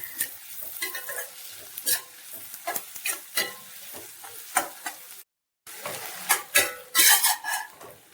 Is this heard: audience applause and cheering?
no